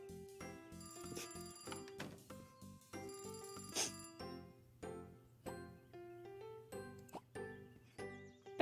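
A telephone rings with repeated bright electronic trills in a quiet indoor setting, several ring bursts in succession, clear and close with no talking.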